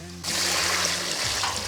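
Water pours into a hot wok of fried spices, tree bark, twigs and dried chili for braising beef hooves in a grassland home kitchen: a steady, loud rushing splash that starts abruptly and keeps going near and close.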